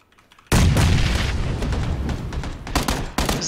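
Gunfire in the video game PUBG (PlayerUnknown's Battlegrounds), a sudden loud burst of shots and booms that rumbles on, with more sharp cracks near the end.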